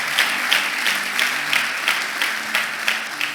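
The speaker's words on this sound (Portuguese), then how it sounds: "Vai lá, aplaude o Senhor." A church congregation applauds, a steady wash of many hands clapping with rhythmic swells, fairly close and full, with no talk over it.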